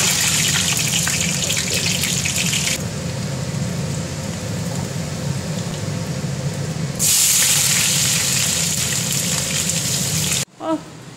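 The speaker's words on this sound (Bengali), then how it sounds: "তেল দিয়ে দিচ্ছি, প্রথমে বেরেস্তাটা ভেজে নেবো।" Sliced onions for chicken biryani frying in hot oil, a steady loud sizzle running throughout, brighter and more intense in two stretches, with a clatter at the end.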